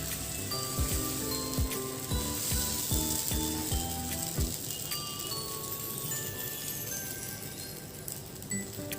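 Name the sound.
dosa batter sizzling on an oiled griddle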